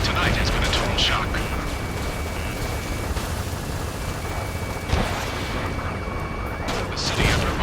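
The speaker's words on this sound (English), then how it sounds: "Gunfire and the roar of jets echoing through the streets." Dense, continuous roar of jet engines and rumbling gunfire fills a city scene in the video game Ace Combat 7: Skies Unknown, with sharp bursts cutting through near the middle and end, loud and unbroken throughout.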